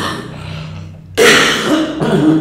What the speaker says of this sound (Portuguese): Eu vou tossir, vocês vão cortar, mas eu vou tossir